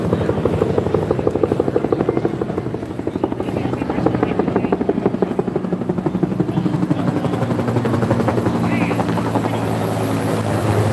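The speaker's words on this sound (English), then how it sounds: "Here comes another helicopter flyover." A helicopter passes overhead during a Veterans Day parade in Petaluma, with a loud, steady rotor chop and engine drone, with faint crowd voices mixed in.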